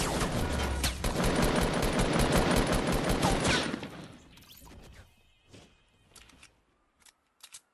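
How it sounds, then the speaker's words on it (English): Rapid, loud automatic gunfire from a Fortnite match fills the first half as a dense burst, then cuts off, leaving scattered fainter shots and clatter. "Shit, he's shooting at us."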